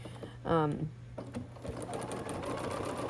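Sewing machine with a quarter-inch foot stitching binding on a star-pattern quilt, a steady close mechanical whir that starts after a brief voice and runs evenly to the end.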